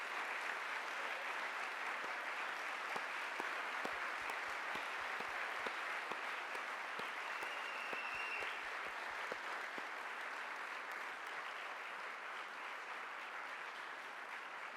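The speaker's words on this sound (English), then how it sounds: "I think you deserve a big round of applause for everything." Audience applause fills a 2017 speech event, a long, even wash of many hands clapping at a distance, with a few sharper individual claps standing out and no talk over it.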